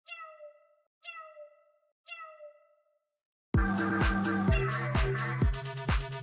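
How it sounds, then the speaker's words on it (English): Three separate cat meows, each short and clear, followed by a loud burst of rhythmic music with thumping beats. "I think I actually have another meow sample somewhere on here."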